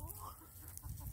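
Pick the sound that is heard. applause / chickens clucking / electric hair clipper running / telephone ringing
chickens clucking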